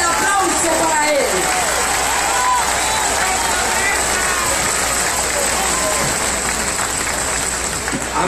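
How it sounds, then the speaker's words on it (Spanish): Crowd applauding at a political rally in Guaymas, Sonora, Mexico, where the president is being introduced: dense, steady clapping and cheering throughout, loud and close, with crowd voices mixed in. "Fuerte el aplauso para él."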